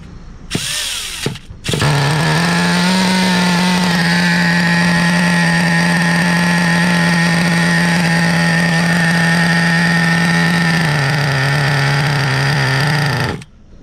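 Traxxas Revo RC truck with a nitro glow engine starts after a brief cranking burst, then runs loud and close at a steady buzzing high idle that dips slightly near the end before cutting off.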